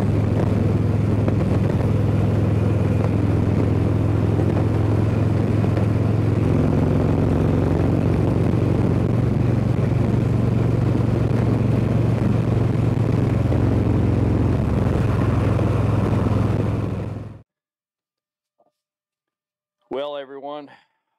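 Harley-Davidson Road Glide motorcycle engine rumbling steadily while riding, loud and close with wind noise, cutting off abruptly before a brief spoken voice.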